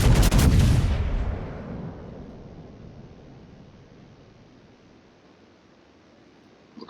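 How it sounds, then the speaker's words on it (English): Warship broadside in a naval battle game: one loud, heavy gun blast up close, its rumbling boom fading slowly over several seconds into low background noise. "going to get another shot on his broadside"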